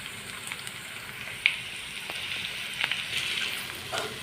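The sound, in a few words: onions and beetroot frying in a pan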